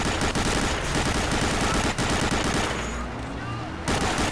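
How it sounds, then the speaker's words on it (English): A mounted jeep machine gun fires continuously in the Medal of Honor: Allied Assault video game, making dense, loud rapid bursts that run almost unbroken with brief dips throughout. "using a machine gun to cause some help"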